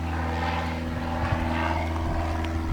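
Propeller aircraft flying overhead in a video game near an abandoned base, a steady droning engine hum that holds at an even level throughout, with no voices.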